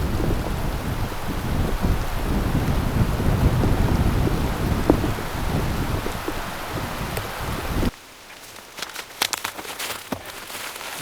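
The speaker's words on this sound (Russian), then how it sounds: "Ой, дождик начался." Steady heavy rain with rumbling thunder over a forest lake, loud and continuous, then dropping suddenly to a quieter patter of scattered drops.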